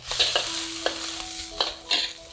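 Minced garlic and pickled mustard greens hit smoking-hot oil in a wok, giving a steady sizzle broken by several sharp bursts and scraping stirs, close and alone without talk.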